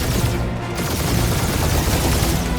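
Dense, continuous gunfire from a Guardians of the Galaxy video game battle, sustained and loud across the whole stretch with no clear gaps between shots.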